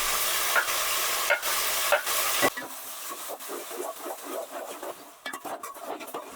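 Chopped tomatoes and onions fry in a pan for a fish curry, with a loud hissing sizzle at first that settles into a busier crackle, broken by repeated scraping strokes of a spoon as everything is stirred, close up and without talk.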